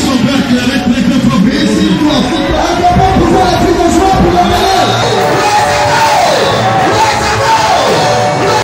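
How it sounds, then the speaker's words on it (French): A large crowd cheers loudly at a church service in Benin, with sustained shouting, yelling and whooping that stays dense and close throughout. "Est-ce qu'on peut acclamer très fort?"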